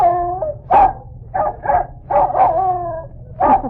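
A dog barks and yips in a series of short, irregular bursts, with some whimpering, howl-like tones in between, close and fairly loud.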